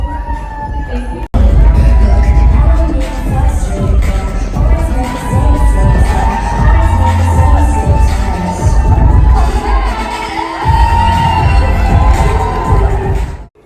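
A loud, packed crowd cheers and shouts continuously at a Galaxy Pageants 2019 event, the roar starting abruptly and staying intense, with screams and whoops layered throughout.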